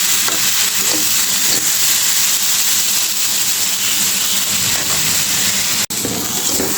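Lentils with cumin powder and salt sautéing in a hot pan, giving a loud, continuous close sizzle with faint stirring scrapes. It cuts out for an instant near the end, and no one speaks.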